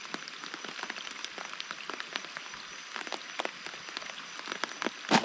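Rain falls through the night during net fishing, steady patter with scattered sharp drops hitting nearby surfaces, fairly faint and even.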